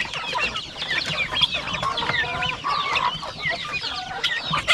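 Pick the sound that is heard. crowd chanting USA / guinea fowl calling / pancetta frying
guinea fowl calling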